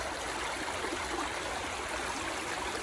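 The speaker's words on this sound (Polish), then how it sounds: "to jest rzeka Czarna Hańcza" The Czarna Hańcza river flows with a steady, even rush of water, a continuous close hiss and gurgle without breaks, no voices heard.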